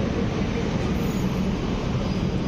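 Steady, loud rumble of a Hitachi train at Roma Termini station, with dense low-frequency engine and rail noise holding unbroken throughout and no talk over it.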